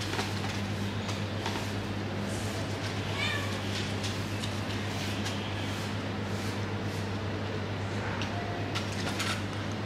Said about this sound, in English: Your cat is hungry.